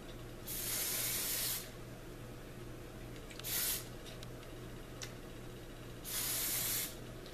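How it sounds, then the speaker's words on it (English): Hair spray hisses from a can onto the roots of the hair in three bursts. The first and last are long and steady, the middle one shorter, all close and crisp against a quiet room. "I take it in little sections and I spray it really at the roots all the way down"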